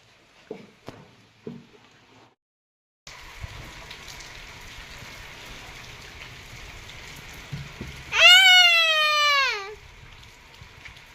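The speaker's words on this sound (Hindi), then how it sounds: "बारिश का मौसम और वैसे भी कुछ काम करने का मन नहीं कर रहा है बारिश में" Rain falling outside during the rainy season, a steady soft hiss of moderate loudness that starts a few seconds in, with a cat's loud drawn-out meow over it near the end and a few faint sounds before the rain begins.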